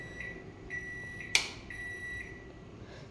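A microwave oven used to make tea beeps as its timer finishes, sounding a short run of high electronic tones, then a single sharp click, with faint room hum and no talk.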